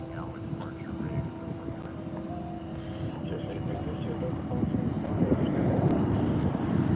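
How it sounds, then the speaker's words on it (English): At Palm Springs airport, airplanes taxi nearby with a low rising engine rumble and whine that swells toward the end, heard over light wind noise. "You don't normally get to see the airplanes taxi on this side."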